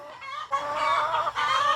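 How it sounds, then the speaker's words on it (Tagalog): Several free-range backyard chickens cluck and chatter close by, a busy run of overlapping bird calls with no one talking. "Itong mga chicken."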